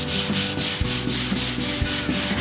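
Rhythmic back-and-forth sanding on the old paint of a 1964 Chevy C10 truck with heavier-grit sandpaper, about nine quick, loud, scratchy strokes heard close up with no talking.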